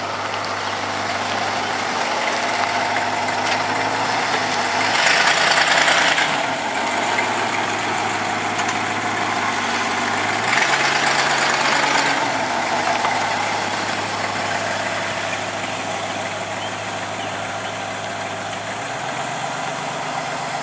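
Engine of a green Chevrolet truck idling nearby, a steady low rumble running throughout with a couple of brief swells in level, no voices over it.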